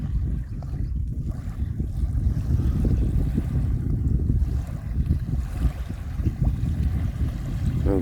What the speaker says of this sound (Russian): Волны, как у моря.